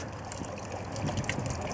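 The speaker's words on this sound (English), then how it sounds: "Oh, look at that water fountain." Water splashing and trickling steadily from a fountain outdoors, fairly faint, with a low rumble of wind or traffic underneath.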